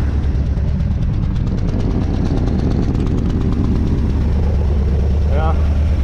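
A Ford 460 engine in an Econoline E-350 tow truck idles with a misfire and bad exhaust, a loud, steady, rough rumble with uneven pulsing close by and a brief squeal near the end.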